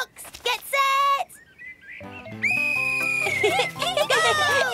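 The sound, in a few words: whistle blown to start a race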